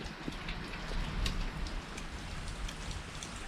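Steady rain falls outdoors, a dense even patter with scattered sharper drops striking nearby surfaces throughout, no voices.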